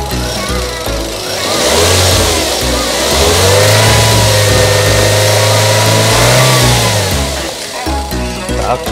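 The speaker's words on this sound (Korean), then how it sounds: "그리고 엔진 소리까지 한번 들려드려 볼게요." A used Chevrolet Spark compact car's engine runs close by, climbing through a loud rev that holds high for a few seconds before dropping back to a settled idle.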